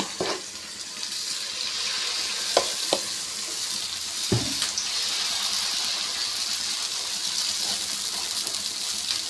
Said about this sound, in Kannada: ಇವಾಗ ನೋಡಿ ದೋಸೆ ಹಾಕ್ಕೊಳ್ಳೋಣ